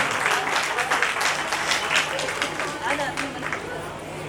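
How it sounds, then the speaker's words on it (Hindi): Sustained audience clapping at a Sawan Mahotsava dance and music festival, a full, even wash of hands applauding for several seconds with faint crowd babble mixed in. "तालियां बजाते रहिए।"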